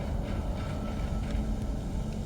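In the Dead Space video game, a tram rolls along its track with a steady, dense rumble and faint rhythmic rail clatter, continuous and moderately loud throughout with no voices.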